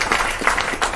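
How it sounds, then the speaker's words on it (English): Applause from an audience at an evening talk on being a wife, mother and boss, a steady wash of clapping with swells, fairly close and continuous for about a second. "I think they need a round of applause for that"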